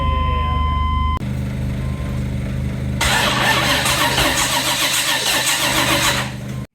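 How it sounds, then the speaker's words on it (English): A 1980 Chevrolet Camaro engine cranks loudly for a couple of seconds after a brief electronic tone, then catches and settles into a rough, steady run close by. "we'll crank it and we'll see if we're getting spark"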